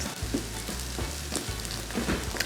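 Onions, ginger and garlic sizzling in a pan for curry chicken, a close continuous fry with soft stirring scrapes and low thumps, no talking.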